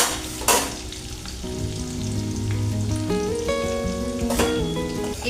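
Chopped ginger and chili hit hot oil in a pan as a tempering, with a loud burst of sizzling at the start and another later on, plus spatula stirring and a continuous crackle between them.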